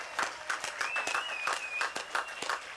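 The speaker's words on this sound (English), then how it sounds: "Let's give everyone a big round of applause." Applause at a skate park dedication ceremony outdoors, a modest crowd clapping steadily with rhythmic accents, fairly faint, with a whistle-like tone rising briefly over it.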